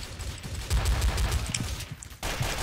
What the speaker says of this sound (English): I can't shoot anybody with a pistol